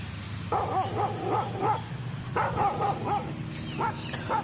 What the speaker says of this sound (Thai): ตวาดหมาของมัน ที่มันเห่า เพราะเห็นคนแปลกหน้า